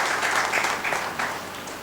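An audience at a rural development colloquy in Ranchi bursts into brief, steady clapping that fills the room with a dense, even patter.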